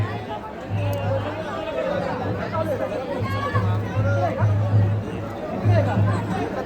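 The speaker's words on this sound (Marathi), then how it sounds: "लय गर्दी आहे रे." A big crowd chatters at a busy gathering in Veer, a steady babble of many overlapping voices close by, with a low droning hum pulsing underneath.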